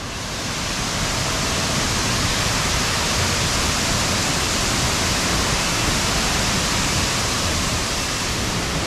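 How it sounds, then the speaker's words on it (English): A waterfall in Coorg, Karnataka, roars as a steady, loud broadband rush of falling water that fills the whole clip without a break, with no voices over it. "Finally, the waterfall."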